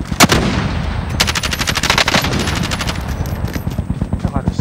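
Rapid automatic gunfire rattles in dense bursts through a Warzone match, loud and close, with a voice talking over part of it.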